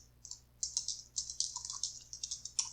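Quick bursts of keystrokes on a computer keyboard as a password hint is typed, close and crisp, in irregular clusters with short pauses between them.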